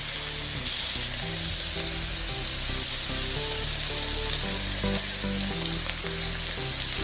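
Thick bacon sizzling in a hot skillet, a loud, steady frying hiss and crackle that runs unbroken from start to finish, close up, with faint background music.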